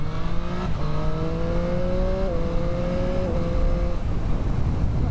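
A Triumph Street Triple 765 RS motorcycle accelerates hard on a bumpy road, its engine a loud, continuous droning tone that climbs, with a few abrupt steps as gears change.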